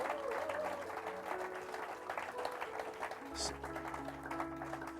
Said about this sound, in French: j'aimerais bien qu'on applaudisse pour leur souhaiter la bienvenue